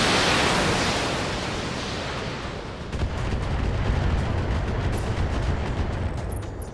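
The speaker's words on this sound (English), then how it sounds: "With a precision strike, we're going to drop missiles down on the" Precision strike missiles exploding in the mech game Battletech: a broad, roaring blast wash fills the clip, easing slightly, then a second rumbling surge of explosions rolls in, loud and sustained with no talk.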